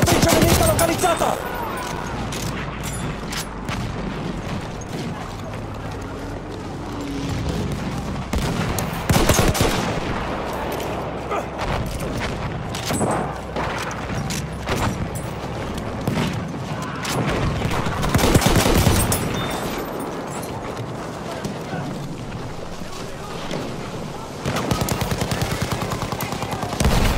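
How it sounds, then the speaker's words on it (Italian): Machine gun fire in Battlefield 1 multiplayer, loud rapid bursts of automatic gunfire mixed with distant shots and explosions, dense and continuous, with voices calling out over the battle. "Mitragliatrice nemica localizzata!"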